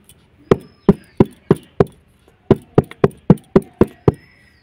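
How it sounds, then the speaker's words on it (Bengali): A cake tin filled with carrot sponge batter is tapped on a countertop to knock out air, giving a run of sharp, close knocks: five evenly spaced, a short pause, then seven more in a quick steady rhythm. "এবার আমি কেক টিনটা একটুখানি ঝাঁকিয়ে নেব,"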